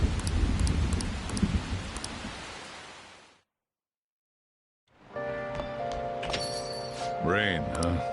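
Steady hiss of rain in the video game Persona 5 Royal, loud and continuous before cutting to silence, then returning more softly beneath game music and tones.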